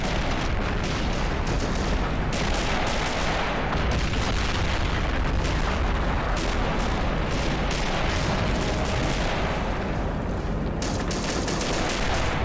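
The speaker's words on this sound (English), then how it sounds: "any soldiers that are just remotely getting close, they're just getting gunned down by these riflemen" Dense, continuous rifle fire rattles through a toy soldiers video game battle, with rapid overlapping shots and booming impacts crowding the whole stretch at steady high loudness, with no voices.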